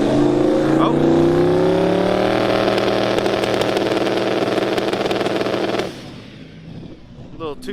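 A race car engine is held on a two-step launch limiter during testing, a loud sustained buzzing drone with rapid popping that cuts off sharply near the end, leaving quieter idle and a voice.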